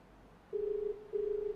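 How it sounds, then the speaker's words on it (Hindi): An unanswered phone call rings out, two long steady electronic ring tones separated by a short pause, clear and close over faint background hiss. "हमारी टीम लगातार फोन कर रही है, घंटी जा रही है"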